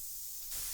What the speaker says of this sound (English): And a lot of white noise like this.